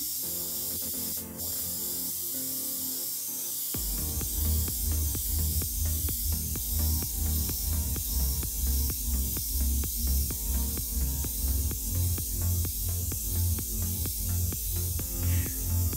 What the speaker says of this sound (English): what I'm using here, if you're not familiar with airbrushing, is something called a double action airbrush.